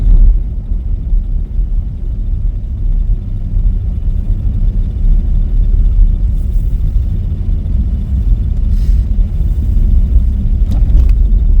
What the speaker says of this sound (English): Giving a little gas here to see what kind of traction we have.